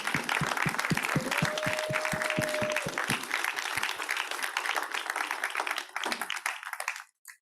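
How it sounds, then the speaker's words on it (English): A conference audience applauds a panel on health rights, dense steady clapping with some sharp individual claps, fading out near the end. "a round of applause to this panel and to all of you."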